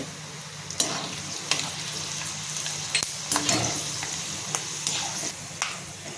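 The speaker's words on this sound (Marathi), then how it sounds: "काळी मिरी आहे ती सुद्धा मी तळून घेते" Black peppercorns fry in oil in a pan for homemade goda masala, a continuous soft sizzle broken by sharp clicks and scrapes of a spoon stirring against the metal.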